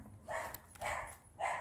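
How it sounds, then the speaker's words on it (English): A dog barks at night in a graveyard in Isleworth, three moderately loud barks spaced evenly over a faint background hiss. "Bloody dog."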